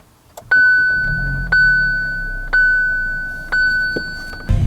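A 2020 Kia Seltos's electronic chime beeps four times at a steady interval, loud and close, over a low engine rumble.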